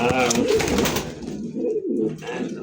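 Pigeons coo close by in a loft, with low throaty rolling calls that repeat and overlap. Faint background noise runs beneath the calls.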